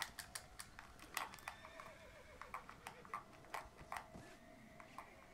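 Horse in the Red Dead Redemption: Undead Nightmare video game, with quiet rhythmic hoofbeats clip-clopping throughout and a faint neigh mixed in.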